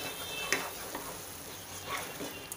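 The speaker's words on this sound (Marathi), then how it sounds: "अर्धा मिनिट झालाय मसाले परतून" Masala spices sautéing in a pan for a raw jackfruit dish make a soft, steady sizzle with a few sharp stirring clinks and scrapes, moderately quiet and close.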